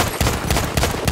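An enemy machine gun fires in a video game battle: a brief, loud stretch of rhythmic bursts, about four sharp pulses in quick succession, with no talking.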